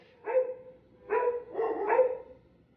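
Pug dogs give a few short, muffled barks, one then a closer run of three, moderately faint with quiet pauses between.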